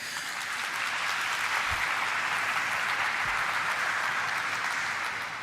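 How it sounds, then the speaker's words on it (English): Sustained, dense applause from an audience at a stock exchange listing ceremony for a pharmaceutical company, an even wash of many hands clapping throughout with no talk. "please give yourself a huge round of applause"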